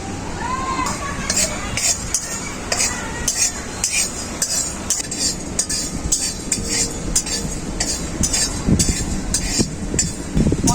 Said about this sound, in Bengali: গোটা জিরে, গোটা ধনে, এলাচ, লং আর দারুচিনি একসাথে শুকনো কড়াই ভেজে নেব।